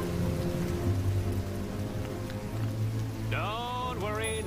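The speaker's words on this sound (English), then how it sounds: "not even a little rain can dampen this beautiful day" Rain falls steadily in an animated cartoon scene, a soft continuous patter under a low musical hum, with a bright rising and falling whistle-like tone near the end.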